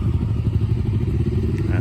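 A Honda Magna V-twin cruiser motorcycle passing by on a street in Japan, its engine giving a steady low rumbling throb up close.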